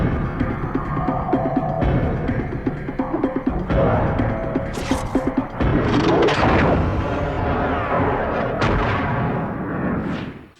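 Film gunfire and heavy blasts, loud booming shots and crashing impacts stacked over a dense, continuous action soundtrack, close and forceful throughout.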